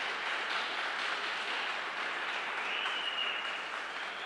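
Church congregation applauding during a Saturday evening service, a steady, fairly faint roomful of claps heard from a distance.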